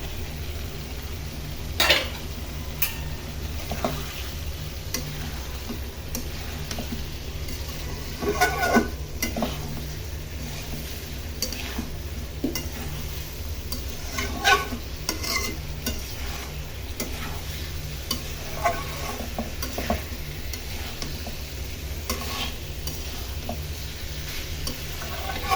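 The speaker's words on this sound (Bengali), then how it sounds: "এর মধ্যে আমি এখন মাছ দিয়ে কষাবো।" Catfish fries and is stirred into a curry masala in a pan with papaya, giving a continuous low sizzle with scraping spoon-on-pot clinks scattered throughout and no voices.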